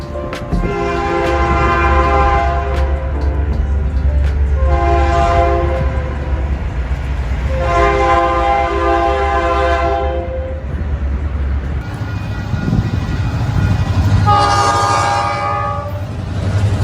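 A South Shore SD38-2 diesel locomotive rumbles steadily close by while its horn sounds in four long chime blasts separated by pauses, with a low engine drone underneath throughout.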